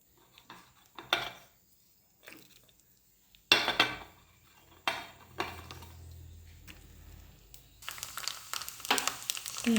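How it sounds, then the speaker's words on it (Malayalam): Cashews and coconut pieces frying in ghee for a prathaman, heard as intermittent clatter of a pan and stirring spoon over a soft sizzle, with bursts of louder scraping and no speech. "കുറച്ച് നെയ്യിൽ അണ്ടിപ്പരിപ്പും തേങ്ങാക്കൊത്തെല്ലാം വറുത്ത് ചേർക്കാം."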